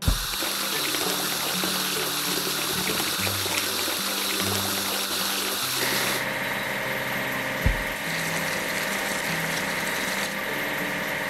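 Water spraying onto a basket crane in a train station repair video game, a continuous hiss over a low tonal engine hum with a couple of sharp clicks.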